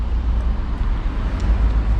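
Traffic on a busy high street that was once the old A38 trunk road in Tewkesbury gives a steady low rumble of passing vehicles, continuous and moderately loud with no distinct individual pass-bys.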